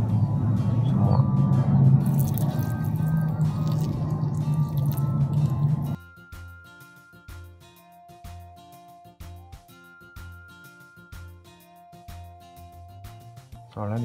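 Lithops succulents in porous potting medium being watered inside a hot greenhouse: a loud, steady pour splashes for about six seconds, then gives way to scattered, irregular drips and trickles close by.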